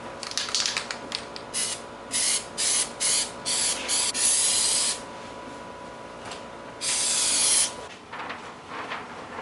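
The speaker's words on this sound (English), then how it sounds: "I'm just going to be using a Contact 77 spray." Contact 77 spray adhesive sprayed onto wood for a sword build: a run of short, sharp hissing bursts, then a longer steady spray, close and loud, with no voices.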